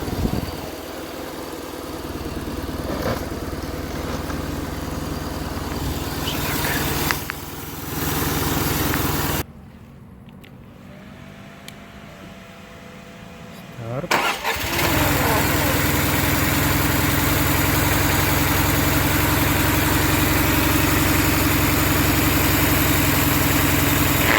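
An air compressor mounted on a motorcycle engine runs with a steady, loud mechanical drone, briefly dropping quieter mid-clip before resuming at full level.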